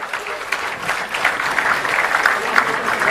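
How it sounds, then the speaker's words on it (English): Audience applause at the Golden Jubilee curtain raiser of New Mangalore Port at Bharat Mandapam, a dense, even clapping from a large crowd sustained throughout without a break. "Please give Balachandra sir a big round of applause."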